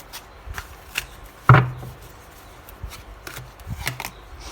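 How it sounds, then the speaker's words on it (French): Tarot cards laid one by one onto a table, a few soft slaps and flicks with one sharper snap, quiet and close with pauses between. "On pose les 6 cartes et après on interprète tout ça."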